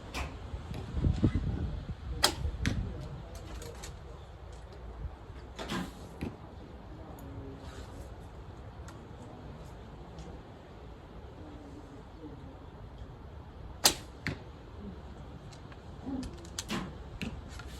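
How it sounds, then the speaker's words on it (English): Arrows shot from a thumbshooter bow, several sharp slapping cracks scattered across the span, some stronger and some faint, over quiet outdoor background. "you hear this arrow slap"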